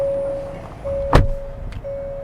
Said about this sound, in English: the door sounds pretty solid there